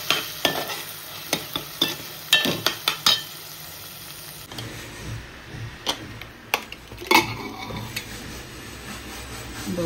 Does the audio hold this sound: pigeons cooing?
no